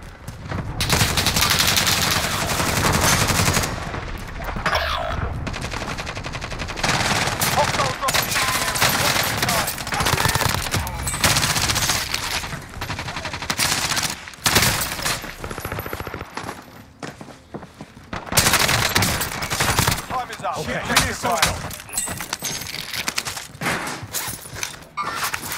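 Hostile gunfire in the video game Call of Duty: Modern Warfare rattles in dense bursts of automatic fire and single shots, loud and sustained across the scene, with brief lulls between volleys.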